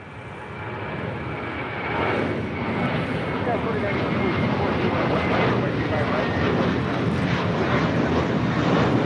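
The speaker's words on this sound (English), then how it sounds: "JetBlue Airways Flight 524 heading to JFK and the A321 now rolling down" JetBlue Airways Airbus A321 taking off at LAX, a loud, steady roar of jet engines that builds slightly and holds broad and constant throughout, with voices talking over it.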